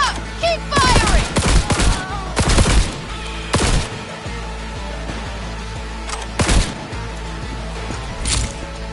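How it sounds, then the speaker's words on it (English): Bursts of gunfire in Cyberpunk 2077 crack out in irregular volleys, loud and close, over a constant rumbling background with scattered impacts and shouting voices. "Don't fucking stop! Keep firing!"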